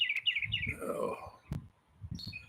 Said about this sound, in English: them birds are singing away.